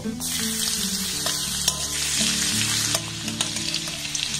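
Whole cumin seeds and grated garlic hit hot oil in a pan, giving a bright, steady sizzle at close range that sounds alone with occasional light clicks of a spoon.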